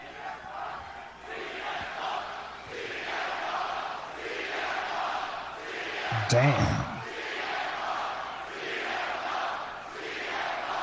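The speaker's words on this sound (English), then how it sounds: "This crowd is crazy." A large wrestling arena crowd roars and cheers continuously in Grand Rapids, Michigan, with a sustained loud wash of voices and a brief thump midway, while someone speaks a short word over the din.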